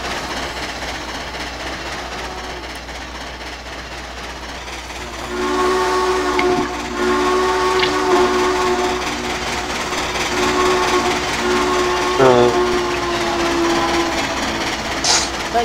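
A steam locomotive whistle sounds in a train video game, a sustained multi-tone blast joined by a second sharp whistle toot over steady rolling rail and hissing steam noise.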